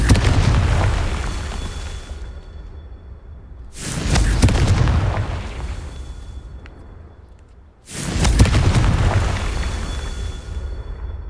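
Three Confringo fire-spell explosions from Hogwarts Legacy on PS5 burst one after another about four seconds apart, each a loud, sharp blast that rolls off into a long rumbling decay, with no talking.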